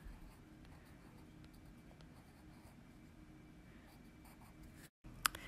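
Pen or pencil writing numbers on paper gives a soft, steady scratching that stays faint and close, ending in a brief sharp tap.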